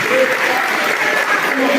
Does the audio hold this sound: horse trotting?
no